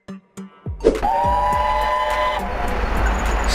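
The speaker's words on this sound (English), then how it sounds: "Steam locomotive." A steam locomotive starts with a few sharp chuffs, then gives a loud, sustained whistle over a steady roar of rumbling steam and running gear that continues to the end.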